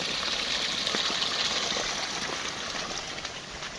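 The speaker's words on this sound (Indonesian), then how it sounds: "Airnya dari petakan sawah sampai meluber ke sungai." Water spilling over from flooded rice paddy plots into a village stream makes a steady, close rushing gush that runs without a break and without any voices.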